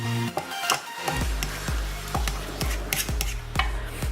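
A simple fork mashes deviled egg yolks in a bowl, giving a steady series of short scraping, tapping strokes about twice a second, close and clear with no talking.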